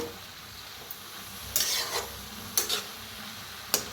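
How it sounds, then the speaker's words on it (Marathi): Masala roasting in a pan is stirred in a few sharp bursts of scraping and sizzle against a quiet, low background hiss, with pauses between the strokes. "मिक्स करत ना भाजायचं सगळा मसाला, म्हणजे चांगला भाजला जातोय."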